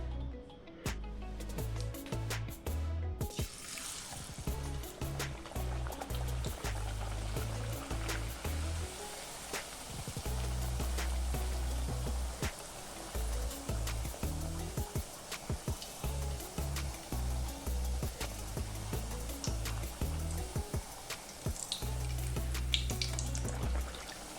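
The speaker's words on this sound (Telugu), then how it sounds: "ఇప్పుడు మనము ఒక్కొక్కటిగా చెక్కలు వేసి కాల్చుకుందాము" Rice flour chekkalu deep frying in hot oil make a continuous, dense sizzle and crackle that stays steady and close throughout, with no talk.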